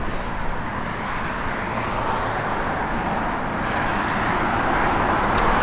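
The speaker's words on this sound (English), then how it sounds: "That orange just pops, man. It looks beautiful rolling down the road." A 1971 Dodge Demon in orange with a small stall converter drives along the road, giving a steady broadband roar of engine and tire noise that swells slightly toward the end, with no one talking.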